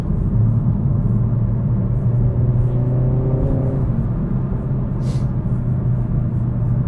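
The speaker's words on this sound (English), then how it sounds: "You guys hear the exhaust? Pop," A Renault Megane RS 300 driven hard on a road, its engine and exhaust giving a steady loud rumbling drone with a rising whir, close and continuous, with no talking.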